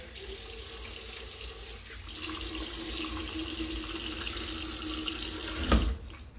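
Bathroom sink tap water runs steadily as a man wets his beard, a close hiss that grows fuller after a couple of seconds and ends with a brief splash and thump before shutting off.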